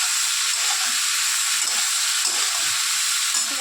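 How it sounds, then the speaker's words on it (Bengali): Pointed gourd sizzles in a hot pan as it is stirred, a loud, steady, close hiss of frying that holds without pause throughout. "সব পরুলটা দিয়ে দিলাম। ঢেলে খুব ভালো করে নেড়ে নিচ্ছি।"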